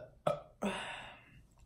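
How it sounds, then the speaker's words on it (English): Two loud, close burps from an adult woman, a short one followed after a brief pause by a longer, drawn-out belch that fades slowly, with no talking. "My baby burps, y'all."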